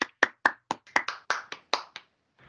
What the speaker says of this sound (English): a round of applause for Terry